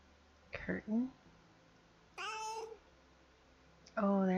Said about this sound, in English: there's my bad kitty